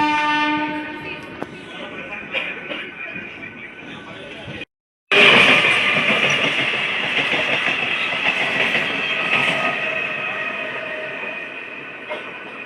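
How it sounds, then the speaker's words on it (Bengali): A Panskura–Digha local train rolling along the tracks, a loud steady rumble with clattering wheels that cuts out briefly midway and then returns even closer and louder, with a horn-like tone early on. "সত্যি কথা বলতে আমার এই লোকাল ট্রেনে জার্নি করতে খুবই মজা লাগছিল।"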